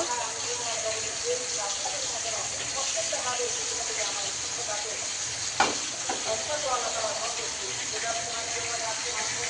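Two hilsa fish tails fry in oil in a pan on a home stove, giving a steady, close sizzling hiss that runs unbroken, with one brief clank of utensil against pan midway.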